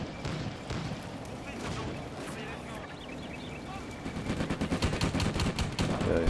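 Gunfire in Combat Mission: Afrika Korps during a WWII battle at Bir Hakeim, with tanks firing shells: a steady crackle of distant shots that builds into a rapid machine-gun rattle near the end.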